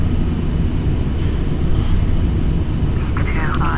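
An airplane engine in Flight Simulator X roars loud and steady as the throttle is increased, a dense continuous drone filling the whole stretch.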